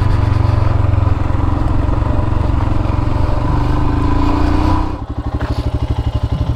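A motorcycle engine drones steadily under load, then the throttle closes and compression braking sets in, leaving a loud, close, lumpy popping rumble as the bike slows.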